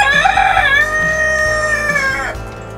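Rooster crowing on a farm, a loud, close, drawn-out cock-a-doodle-doo call that carries for about two seconds, alone with no talk.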